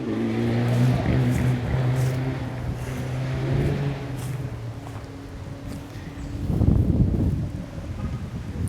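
A rally car on a gravel stage roars in and passes by, its engine note swelling and fading against gusty wind noise, with a louder surge near the end.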